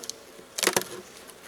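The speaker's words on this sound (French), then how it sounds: "Un petit peu d'abeilles de ce côté là." Honeybees in a Layens hive buzz in a short burst, loud and close for a moment, then fade to a faint hum.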